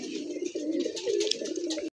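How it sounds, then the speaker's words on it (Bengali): A tumbler pigeon arriving gives soft, low cooing close by, steady for about two seconds before cutting off. "আমার 11 নম্বর কবুতরটা আসছে। এটা একটা টুন্ডা কবুতর"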